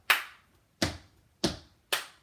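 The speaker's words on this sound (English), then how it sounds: "we have our heel, heel, clap, heel, heel, clap, then toe, toe" Tap dance heel drops and claps from a tap tutorial: four crisp, separate percussive hits spaced roughly evenly, each with a short decay into near silence, close and clear with no talking.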